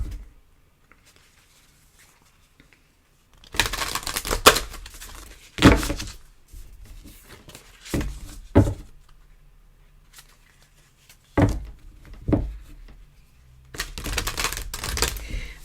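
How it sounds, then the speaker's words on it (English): Moonology oracle cards shuffled and drawn by hand in a quiet room, with several separate bursts of papery riffling and slapping spread across the stretch, close and fairly soft, without talk. "Let's maybe pull some Moonology cards here."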